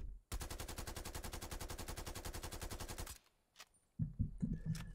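Krig 6 assault rifle in Call of Duty: Cold War fires one steady, rapid sustained burst for about three seconds, loud and close, then stops and scattered softer game sounds follow.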